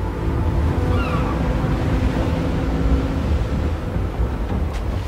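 Ocean waves in the video game Little Nightmares after a character jumps into the sea, a continuous low surging wash of water with wind-like rumble, steady and fairly loud.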